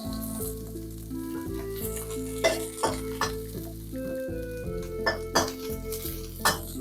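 Garlic sizzles steadily in a hot wok while a metal utensil scrapes and clinks against the pan in irregular strokes, close and continuous with no talking.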